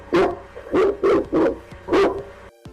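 Sharp barks from a dog in a radio advertisement, five loud, close barks spaced at an uneven rhythm, ending in a brief pause.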